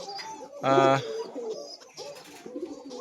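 Pigeons on a breeding farm coo in low rolling bursts close by, one loud harsh call standing out, while someone talks over them.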